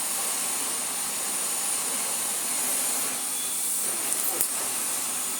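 A 2200 W Miele Cleancare S5281 vacuum cleaner, newly refurbished, runs on a medium setting with a steady, loud airy roar and hiss that holds even throughout and is heard alone.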